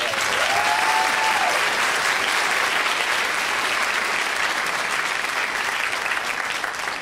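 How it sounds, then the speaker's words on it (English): An audience at a Modesto Junior College speech night applauds steadily, a dense wash of clapping hands that holds at a constant level throughout. "so please give a big round of applause."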